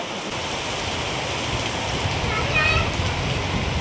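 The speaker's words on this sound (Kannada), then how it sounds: "ಫುಲ್ಲು ಮಳೆ ಬರ್ತಾ ಇದೆ" Heavy rain pours steadily in a dense, continuous hiss, with faint indistinct sounds in the background.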